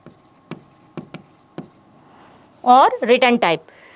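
Marker strokes on a board while a UML class diagram is drawn: three short sharp taps, then a light scratch, followed by a brief burst of nearby male speech.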